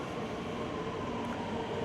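Suburban train arriving at a station, a steady rumbling roar of wheels and carriages on rails, continuous and moderately loud for the whole brief stretch with no voices.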